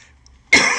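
A single harsh cough bursts out close and loud after near silence, a short rough exhale that trails off.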